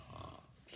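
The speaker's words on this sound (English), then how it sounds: "who's snoring?" Brief, quiet snoring: one low, rumbling breath with a nasal rasp, heard alone with no talk.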